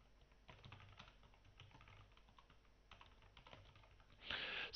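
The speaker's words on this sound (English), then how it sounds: "And I can start typing." Steady computer keyboard typing in a quiet room, a run of close key clicks with brief pauses, ending in a louder burst of keystrokes.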